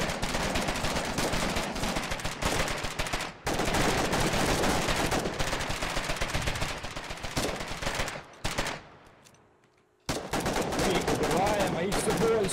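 Machine gun fire in the Foxhole trench warfare game, loud rapid sustained bursts hammering close by, pausing briefly twice, fading out before resuming abruptly.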